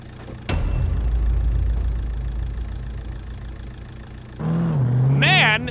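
A Ferrari engine in the BeamNG.drive driving game starts with a sharp burst, then drones loudly and steadily before rising into a higher revving whine near the end, with voices over it.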